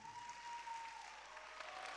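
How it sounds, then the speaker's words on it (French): Audience applause for the semi-finalists at a televised talent show semi-final, a steady faint patter of clapping hands from a crowd lasting throughout, with no talk over it. "Est-ce qu'on peut les applaudir, s'il vous plaît?"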